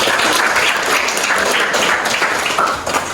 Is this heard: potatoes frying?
no